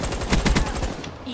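Rapid automatic fire from the Razorback gun in Black Ops 3, a fast burst of loud, close shots that stops after about a second.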